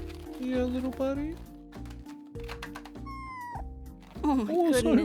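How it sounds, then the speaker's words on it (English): A pet cat meows and gives little chirps at close range, short rising and falling calls between stretches of talk and background music. "What a sweet meow. What a sweet little chirp."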